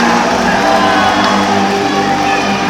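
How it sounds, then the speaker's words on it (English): Crowd at a boxing event in Dunstable roaring and cheering continuously, a loud dense wash of voices and whoops filling the whole moment as a fighter is introduced. "a roar from the crowd."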